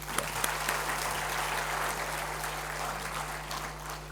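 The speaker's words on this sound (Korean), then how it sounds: "그런 분들이 더 크게 박수합니다" A congregation claps steadily at a church service, a dense, even round of applause over a low electrical hum, with a few sharper claps near the start.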